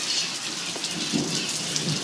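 Heavy thunderstorm rain in Miami, Florida, a steady dense downpour hissing without a break, with low rumbles of thunder mixed into the wash of rain.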